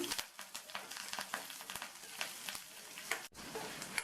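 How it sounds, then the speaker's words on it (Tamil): Curry leaves and tamarind sauté in a hot pan, giving a steady crackling sizzle with scraping stirs. "இப்போ இதையும் மறுபடியும் வதக்கிக்கலாம்"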